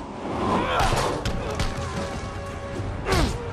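Explosions in Marvel's Spider-Man on PS4 bring crashing impacts and whooshing debris layered over game sounds, with a second burst near the end and faint voices in the background.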